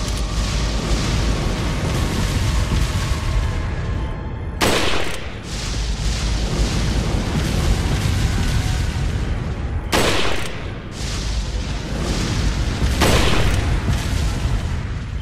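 Sniper rifle fire in Resident Evil 4, several loud sharp shots standing out over a dense, rumbling game soundscape, spaced a few seconds apart.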